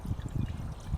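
BG EPR oil treatment poured into a car engine, a faint, short, gurgling trickle of liquid running steadily for about a second.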